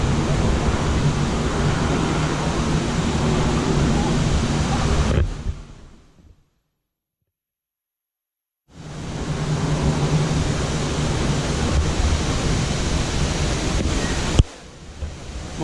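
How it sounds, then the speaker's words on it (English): Multnomah Falls in Oregon's Columbia River Gorge roars as a dense, steady wash of falling water, loud and close. The roar drops to near silence for about two seconds, then returns. "These are definitely the premier waterfalls"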